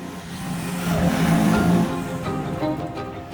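An Alma Sprint race car, a reborn never-raced Group B style racer, revs its engine in a rising, swelling roar that peaks mid-clip and then eases back to a steady drone, with no voices.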